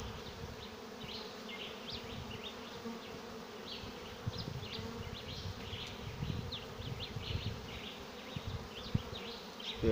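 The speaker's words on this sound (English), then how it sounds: "it's not a big swarm, but it's a good size swarm." A honeybee swarm moves into a bucket swarm trap, a dense, steady buzzing hum of many bees filling the whole stretch at close range, with individual bees' whines flicking in and out above the drone.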